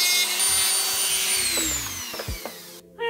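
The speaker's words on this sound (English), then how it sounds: "It's got this tiny little nub that I need to grind down." Power tool grinding a small nub off a washer, a steady high whine that slowly drops in pitch as the tool spins down, with a few light knocks and clatters before it cuts off.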